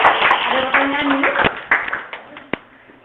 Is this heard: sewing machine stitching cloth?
no